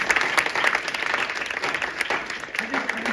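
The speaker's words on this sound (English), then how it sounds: "Let's just clap it up again" A college audience claps for spoken word artists: dense, sustained applause filling the hall close by, with a voice speaking over it toward the end.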